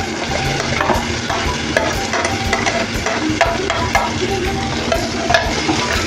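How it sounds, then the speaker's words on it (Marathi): Capsicum sautés in oil with onion and turmeric, giving off a busy crackling sizzle with frequent scraping stirs of a spoon, close and loud throughout. "हळद आणि कांदा आपला चांगला परतला आहे टाकू आपण आधी ढोबळी मिरची"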